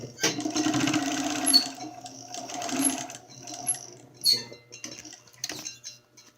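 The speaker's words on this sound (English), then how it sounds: "I'm going to top stitch all around so that it looks nice and flat" A sewing machine top stitches around a fabric mask in a few short, soft runs, mixed with light metallic clinks and handling noises at close range and no talk.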